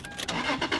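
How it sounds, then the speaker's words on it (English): A Lexus IS300 car engine cranks and catches in a short, loud burst of starter whir and rising engine roar, close by with no talk. "I guess I didn't need to turn the car on, did I?"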